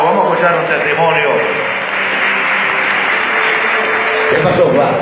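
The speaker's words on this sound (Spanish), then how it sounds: "Denle un fuerte aplauso a nuestro hermano." Church congregation applauding for a brother called forward to give a testimony, a steady broadband clatter of many hands lasting throughout, loud and close, with speech over the top.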